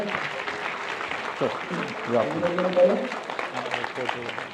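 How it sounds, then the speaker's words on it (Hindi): An audience claps as a Zero Volt Therapy kit is presented as a gift at a health talk, a steady spread of clapping under ongoing voices and crowd chatter. "जोरदार तालियां बजाकर"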